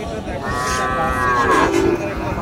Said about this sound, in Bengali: আজকে প্রচুর পরিমাণ গাভী গরুর আমদানি হয়েছে বামন্দি হাটে।